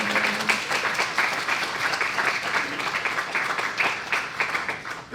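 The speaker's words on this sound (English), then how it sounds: "So, huge round of applause for these guys." Steady applause from a meeting audience, dense clapping held throughout at an even level, with a faint voice briefly underneath.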